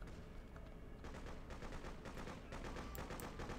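Machine gun fire from the Freedom Fighters shooter keeps up in a continuous rattling stream, rather quiet overall, with several guns chattering at once and no voices.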